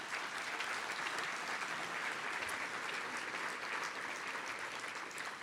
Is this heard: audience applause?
yes